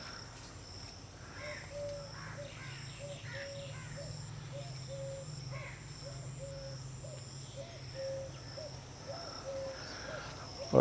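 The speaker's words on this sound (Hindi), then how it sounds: "कोयल भी बोल रही है जी।" An Asian koel near Chak Pirana railway station gives a long series of evenly spaced, repeated tonal calls, fairly faint and distant, over a steady bed of crickets and insect hum.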